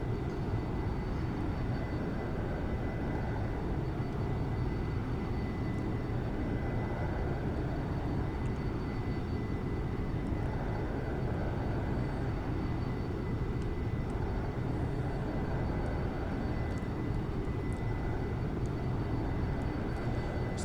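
Steady, loud roar of a jet aircraft engine at high speed in a climb in the X-Plane 11 flight simulator, a constant dense rumble with no breaks and no voices.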